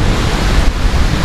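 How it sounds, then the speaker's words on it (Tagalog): Strong wind roars in a dense, steady rush of noise with heavy low buffeting, loud and close, no voices. "Nakita niyo naman yung hangin"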